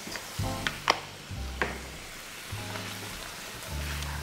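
Onion and garlic base for a pasta sauce sautéing in a pan, a soft continuous sizzle with a few sharp clicks and scrapes of stirring, no talking.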